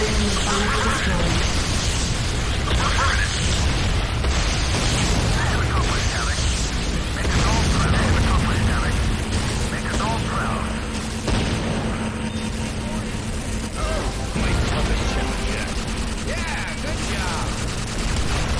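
Dense game-battle din from Command & Conquer Renegade as a Tiberium refinery is blown apart, with sustained booming blasts and gunfire rumbling continuously throughout, loud and thick, with voices mixed in.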